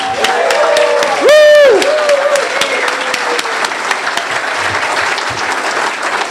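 A room at a Kiwanis club meeting applauds KKids elementary school students, with sustained close clapping and some cheers. Early on, a loud rising-and-falling whistle-like squeal cuts through the clapping.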